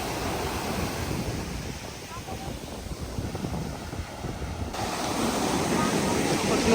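Ocean waves washing onto the beach at Kata Noi, Phuket, a steady rolling surf with wind buffeting the microphone, the wash swelling louder toward the end.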